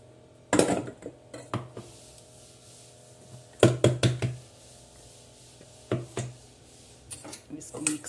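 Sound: mixing spices into ingredients in a bowl

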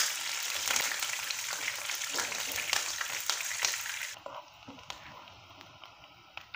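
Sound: ginger and green chili frying in a pan

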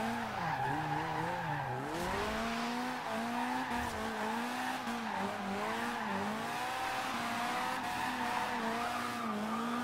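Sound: Mazda MX5 drifting with tire squeal in Forza Horizon 2 video game

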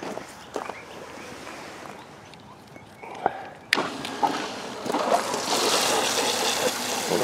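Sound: water pumped into sluice

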